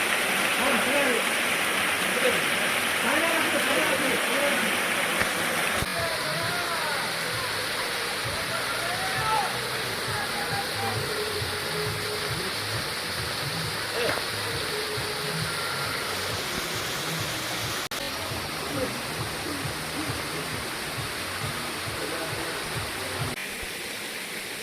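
Constant roaring rush of the second waterfall at Kalimba (Kali Amba) nature camp near Bhanjanagar, dense and steady throughout with people talking over it.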